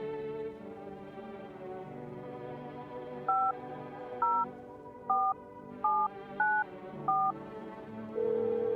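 Touch-tone dialing in the video game No, I'm Not a Human: six evenly spaced beeps stepping through a dialed number over a steady low ambient music bed, finishing with a longer held tone; no voices.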